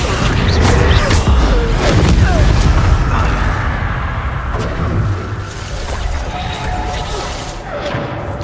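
The Incendio fire spell cast again and again during combat in Hogwarts Legacy on PS5, heard as loud whooshing bursts and booming impacts mixed with crashes, with character voices talking over them.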